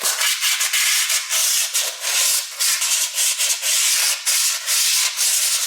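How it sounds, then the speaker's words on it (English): Sanding of a car brake drum during an abandoned 1956 Chevy build, a steady close rasping scrape in repeated strokes with short pauses between passes, loud and without talk. "I'm not so sure that sanding this brake drum is going to work out."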